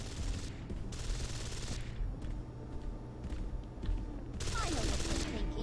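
Gunfire in the Deus Ex: Invisible War video game as a character shoots into the air, bursts of rapid shots recurring in separate volleys at moderate loudness over a low game ambience.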